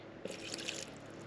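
Water is poured into an oversized mixing container for a glue and sawdust mix, giving a faint, brief splashing trickle with a few drips, heard alone in a quiet space.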